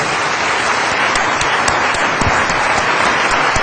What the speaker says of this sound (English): give yourselves a very big hand